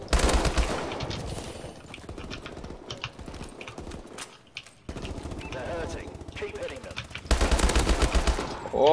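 Rapid gunfire crackles in Call of Duty: Advanced Warfare, dense bursts of shots with quieter gaps and a loud final volley, with no sniper rifle shot standing out.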